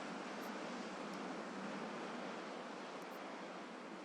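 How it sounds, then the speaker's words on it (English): Steady broadband wash of ocean surf as waves rise, crest and spill back into the sea, a continuous roaring hiss with no clear breaks, fairly loud and unaccompanied by voices. "You might notice the waves rising, cresting, and then releasing back into the ocean."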